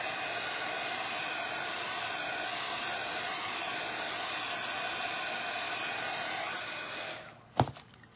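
Heat tool blowing hot air onto WoodUBend decoupage work on a wine bottle, a steady loud whooshing hiss that cuts off near the end, followed by a couple of knocks.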